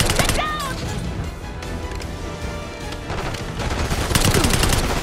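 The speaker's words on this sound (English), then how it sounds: "They're shooting!" Intense gunfire from Call of Duty: Black Ops 6 rattles in dense bursts of shots and crashes, loud and close, with shouted voices over the firefight.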